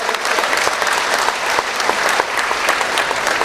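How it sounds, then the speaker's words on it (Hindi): Audience applause at a late-night Hindi comedy and satire poetry gathering, loud continuous clapping from a packed crowd with no voices over it. "एक बार जरा मेरे सम्मान में भी ताली बजाओ"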